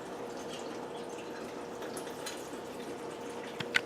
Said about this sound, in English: I'm going to add water to cover.